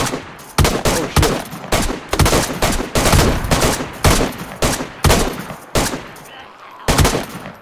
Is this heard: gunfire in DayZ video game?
yes